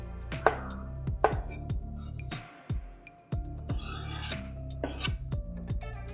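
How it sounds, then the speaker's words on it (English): Knife chopping a cooked omelette on a board for prawn fried rice, a steady run of sharp, close chops with a brief pause partway through. "I'm going to cut up the omelette."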